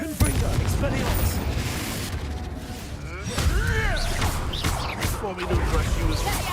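Spell blasts such as Bombardo and Confringo in the Hogwarts Legacy video game, heavy booming impacts and crackling magic effects in a dense, continuous stream, with character voices shouting over them.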